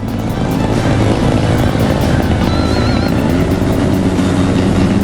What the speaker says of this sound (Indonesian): Dengan menggunakan knalpot brong, mereka berputar-putar di sekitar alun-alun sehingga mengganggu pengguna jalan lainnya